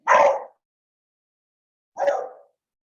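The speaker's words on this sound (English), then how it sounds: "my dogs are barking" A dog indoors gives two sharp single barks about two seconds apart, close and fairly loud, with silence between them.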